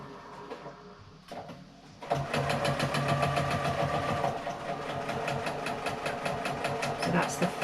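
A sewing machine stitches a tote bag seam, starting after a short pause and then running in a fast, steady mechanical rhythm at close range with no voices over it.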